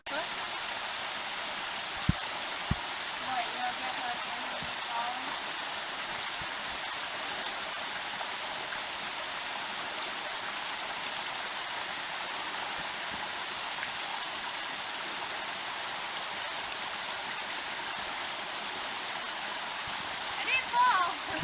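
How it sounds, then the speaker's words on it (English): Natural waterfalls and creek water in the Smoky Mountains near Forney Creek, a steady broadband rush of falling water that continues unbroken, with a few faint knocks early on. "It's definitely some nice natural waterfalls"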